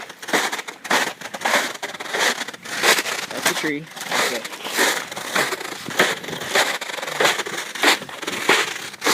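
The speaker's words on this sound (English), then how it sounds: "You hear my feet going through the snow." Crunching footsteps in snow in Grand Rapids, Minnesota come at a steady walking rhythm, close by, while a person talks briefly between steps.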